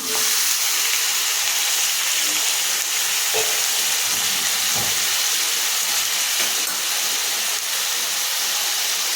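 Thinly sliced potatoes hit a hot pan and fry with a steady, loud broadband sizzle and hiss that runs continuously throughout, with a few faint stirring clinks and no voices.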